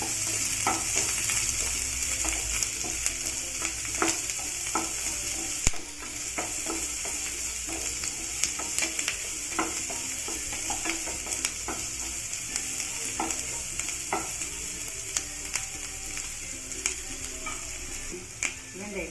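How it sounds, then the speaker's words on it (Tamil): Onions frying in oil in a pan for beetroot chutney, with a continuous close sizzle and regular spatula scrapes and clicks throughout, steady and moderately loud with no talking. "வெங்காயத்தை போட்டு வதக்கலாம்."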